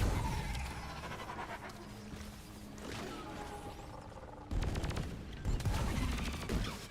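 Video game gunfire: rapid bursts of shots over a noisy background, growing louder and denser in the last couple of seconds, with a faint tonal hum underneath.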